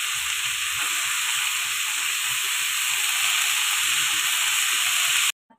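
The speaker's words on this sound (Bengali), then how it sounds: "আমি মূলা শাকটা দিয়ে দিলাম, দিয়ে ভালো করে একটু ওপর মিক্স করে দিব।" Radish greens stir-fry in a pan with a loud, continuous hissing sizzle and faint stirring underneath, cutting off abruptly at the end.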